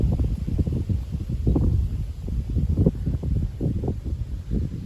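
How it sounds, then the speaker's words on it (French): Small gusts of wind before a supercell storm thump against the microphone in a rapid series of low, rumbling bursts, steady and close throughout, with no one talking. "Il y a même quelques petites rafales."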